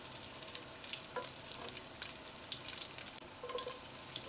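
Garlic sizzles and crackles in hot olive oil in a pot, a fairly quiet, continuous frying hiss with faint stirring clicks and no talking.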